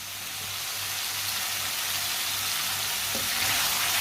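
An egg breakfast mixture cooking in a pan over medium heat gives a steady, loud, broadband sizzle that holds constant throughout, with a low hum beneath and no voices.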